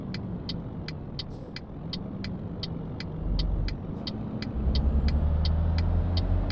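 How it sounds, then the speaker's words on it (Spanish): In Euro Truck Simulator 2, a car passes on a highway between Madrid and Barcelona. A steady engine rumble swells louder while a rhythmic ticking repeats throughout, with no talking. "Uy, mira, viene un coche por aquí."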